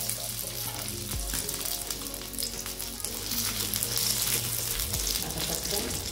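Green chillies and grated coconut roast in a little oil in a pan, a loud continuous sizzle with stirring scrapes and a low hum running underneath.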